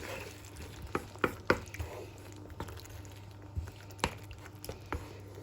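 A spoon stirs mushroom cream sauce with salt in a pan: soft scraping taps and gentle squishing strokes at an uneven pace, with a faint sizzle underneath.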